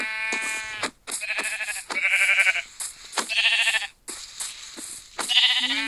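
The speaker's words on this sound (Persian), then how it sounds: "خیلی گوسفند" Sheep bleat over and over, loud and close: long wavering cries, one after another, with short pauses between them and no talking.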